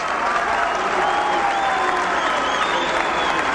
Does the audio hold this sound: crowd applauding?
yes